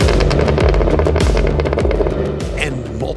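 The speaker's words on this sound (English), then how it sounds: "multiple gunshots are exactly what the Cadillac Escalade V's exhaust sounds like" Cadillac Escalade V exhaust crackling, a rapid string of sharp pops and bangs over a loud engine roar, close and punchy throughout.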